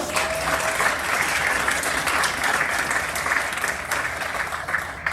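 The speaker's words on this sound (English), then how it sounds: "May we give them a round of applause?" A worship congregation in a church service gives sustained, even applause to welcome a guest musician and his son, with a faint tone briefly audible early on and no talking.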